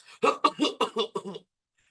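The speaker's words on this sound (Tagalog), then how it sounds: "Eto na, may last ubo siya." A burst of harsh, raspy coughs in quick succession, about six hacking bursts close to the listener, then silence.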